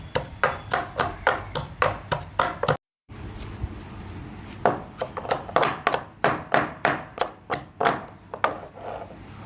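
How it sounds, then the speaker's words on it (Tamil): Grated coconut is pounded in a stone mortar, a steady series of dull, rhythmic thuds close by that break off briefly after about three seconds and then resume at the same even pace. "இடிக்கல்லை எடுத்து ஆற வச்சுருக்க நம்ம தேங்காய் துருவலை இதுக்குள்ளே போட்டுடலாம். போட்டுட்டு நல்லா சதைச்சி எடுத்துக்கலாம்."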